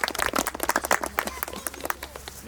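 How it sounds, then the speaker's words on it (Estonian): Brief applause after a tree-planting ceremony, a small group clapping in a quick irregular patter, fairly near and moderately loud. "Nüüd teeb ühe suur aplausi ka ikka."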